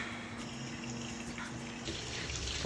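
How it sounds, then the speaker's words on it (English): A kitchen tap runs steadily as hands are rinsed under it, a soft close water hiss that brightens and splashes more near the end; no talking. "Wash my hands."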